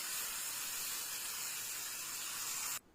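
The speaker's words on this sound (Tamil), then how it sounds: "இப்போது பெரட்டி வச்ச மீனை தோசைக்கல்ல ஒன்று ஒன்றா எடுத்து பொறுமையாக போடணும்" Marinated paarai fish pieces fry in extra oil on a dosa griddle, giving a loud, steady, broad hiss that holds evenly, then cuts off abruptly near the end.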